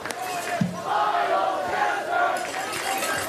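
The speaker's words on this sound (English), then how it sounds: "you actually hear some of the North Haven crowd chanting for Miles Chester after getting the carry of 8 yards" North Haven high school football crowd chanting for a player during a Friday night game against Notre Dame, a steady roar of many voices from the stands with a few sharper shouts, heard from a distance.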